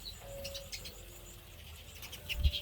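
Young birds chirping in a nest in an outdoor aviary, with faint high chirps and tweets scattered through a steady low background hum, a soft thump near the end.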